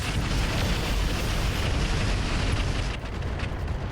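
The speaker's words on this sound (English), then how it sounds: "Structure exposure and LRM ammo explosion." An LRM ammo explosion in the video game RogueTech, a loud rumbling roar of blast noise that holds for about three seconds before easing slightly, heavy with low end.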